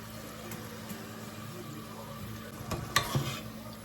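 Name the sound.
french fries frying in oil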